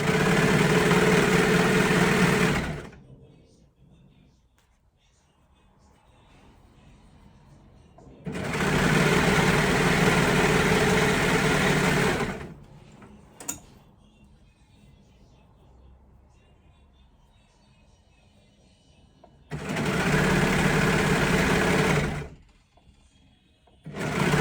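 A sewing machine stitches French terry fabric for a sweater in three separate loud bursts of steady whirring, with quiet pauses between runs.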